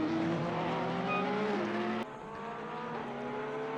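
A Ferrari and a Porsche race in an endurance event at Zolder in a racing video game, with steady high-revving engine whine and a brief tire squeal, then a sudden gear-shift drop to a slightly lower drone.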